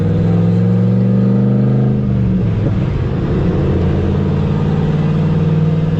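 A Pontiac GTO with an automatic transmission and turbo boost rumbles loudly and revs up, its engine drone swelling and shifting in pitch as it accelerates.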